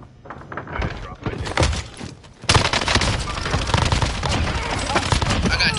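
Dense game combat from a cluster strike: heavy explosions and sustained gunfire, with a loud burst of blasts about halfway through followed by continuous rattling fire, with voices talking underneath.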